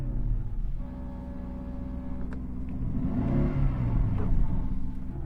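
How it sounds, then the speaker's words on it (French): A car engine revs up from a low idle rumble, the pitch climbing and the roar growing louder and fuller toward the end. "Je vais donc accélérer."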